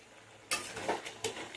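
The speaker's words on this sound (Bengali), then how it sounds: "এবার এটাকে নেড়ে চেড়ে আরেকটু আমি সিদ্ধ করে নেব।" Purple cucumber curry with spring onions is stirred in a pot, with three quick close spoon scrapes over a faint simmering sizzle.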